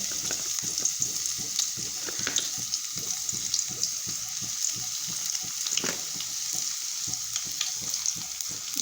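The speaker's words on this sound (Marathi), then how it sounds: "मस्तपैकी तेल गरम झालेलं आहे आणि लसण टाकून घेऊ" Garlic sizzles in hot oil for a masala paneer dish, a steady crackling fry with scattered pops and spits, close and fairly quiet.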